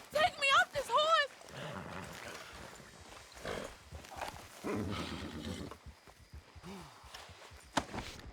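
A horse in Red Dead Redemption 2 gives a sharp, wavering whinny near the start, followed by soft hoof clops. Voices talk over much of the rest.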